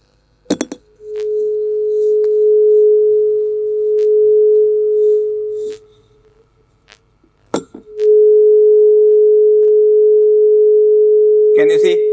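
A steady 426.6 Hz pure tone resonates in the air column of a resonance tube. It holds for several seconds, drops away, then returns loud and sustained, with sharp knocks and handling clicks around it.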